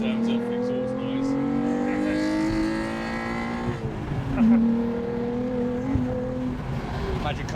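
A Lotus Evora sports car engine revs steadily, its pitch climbing and then dropping as it shifts before rising again, loud and close throughout.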